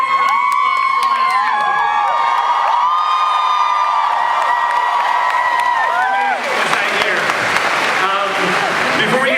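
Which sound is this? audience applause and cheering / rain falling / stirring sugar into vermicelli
audience applause and cheering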